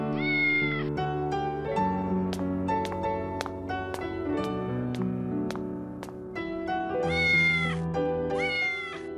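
Stray cats meow again and again in a near, clear chorus, with repeated plaintive cries layered over a soft melodic music backdrop and sharp plucked accents.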